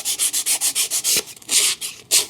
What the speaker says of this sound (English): go over it with some sandpaper and then just curve the sandpaper to match the profile